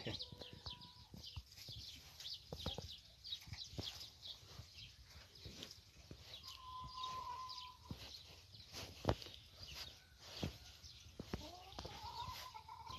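Small songbirds chirp and twitter around a mountain pasture house, with brief whistled calls mixed among hens clucking nearby and scattered farmyard knocks, all fairly faint and steady throughout.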